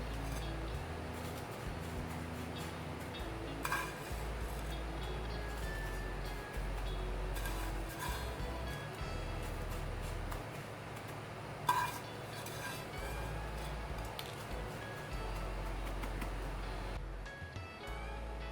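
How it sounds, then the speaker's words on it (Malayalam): A spoon presses and scrapes roasted vermicelli into a butter-greased dish, giving soft clinks and scraping over a steady low background hum, with a couple of sharper taps near the middle. "ഒരു സ്പൂൺ വെച്ചിട്ട് നന്നായി ഒന്ന് പ്രസ് ചെയ്ത് കൊടുക്കുക"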